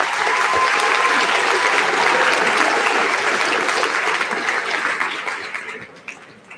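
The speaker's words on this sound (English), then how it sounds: "give yourselves a round of applause" A graduation ceremony audience breaks into loud, sustained applause with dense clapping from many hands, holding steady before tapering off over the last couple of seconds.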